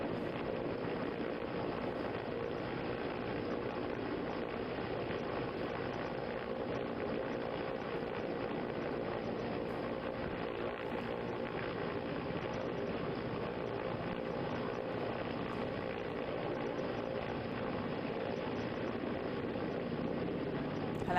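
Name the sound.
air force helicopter during river rescue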